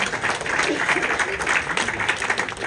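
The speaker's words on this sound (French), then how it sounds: "Applaudissements pour ces deux écoles, s'il vous plaît." An audience applauds two schools at a breakfast and brunch competition final, a dense, even wash of clapping from a crowd that holds steady throughout with no voices standing out.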